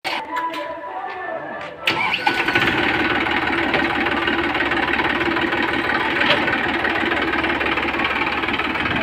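A newly bought tractor's engine catches after a few short knocks and then runs at a steady, loud, rough idle close by for the rest of the clip.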